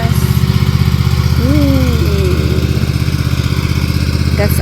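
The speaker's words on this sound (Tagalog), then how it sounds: "going to cut grass" A lawn mower cutting grass in a backyard drones steadily and loudly at close range throughout, with a brief voice rising faintly under the engine.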